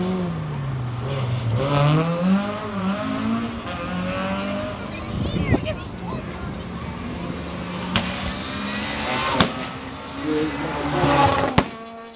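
A fire-spitting Renault Clio rally car climbs a street stage at the Circuit of Ireland Rally 2012, its engine rising and falling through revving gear changes, with squealing tyres and sharp popping bangs and a voice faintly underneath.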